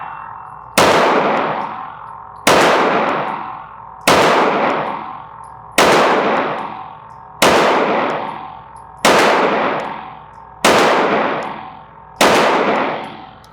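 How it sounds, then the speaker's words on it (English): A rental handgun is fired slow and steady at 5 yards, eight loud, sharp shots evenly spaced about 1.5 seconds apart, each with a ringing, decaying tail and no talking. "I'm going to start off with 10 rounds at a relatively close distance of 5 yards or 15 feet."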